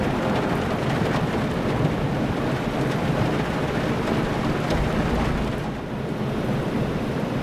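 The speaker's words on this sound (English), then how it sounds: "Heading into the evening, we had a thunderstorm move in." A thunderstorm in the submarine game UBOAT: steady heavy rain and wind hiss with deep rolling thunder rumbling beneath, continuous and fairly loud with no talk.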